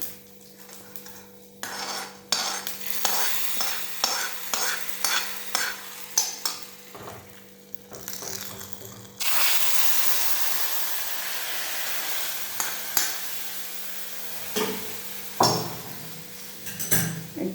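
Spices and vegetables being tempered in coconut oil, with a sharp burst of sizzling frying, repeated metal utensil clanks and scrapes against the pan, and steady hissing; no voices.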